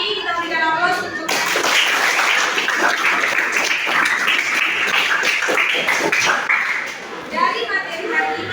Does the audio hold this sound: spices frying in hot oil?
no